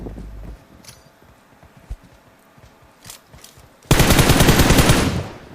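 Rapid automatic gunfire in PUBG Mobile on Erangel, most likely an MR5, breaks out as a loud, dense burst near the end, after faint scattered shots and footsteps.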